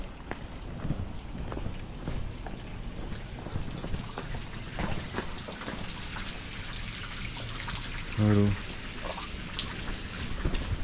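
Small garden water feature splashing and trickling with a steady rain-like patter, close and continuous, while a voice briefly speaks over it.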